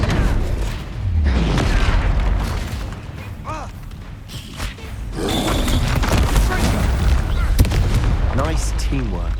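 Booming spell blasts and thuds in the Hogwarts Legacy video game, a Bombarda explosion amid a troll fight, loud and dense with rumbling low impacts, game music and character voices over the top.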